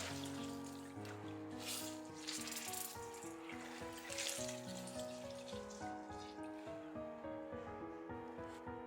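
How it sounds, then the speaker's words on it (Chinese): Fried tofu puffs get rinsed and squeezed in warm water, giving faint sloshing, trickling and soft wet rattling that carries on steadily at close range. "先将油豆腐用温水给它清洗一下"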